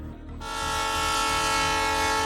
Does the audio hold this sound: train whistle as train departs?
yes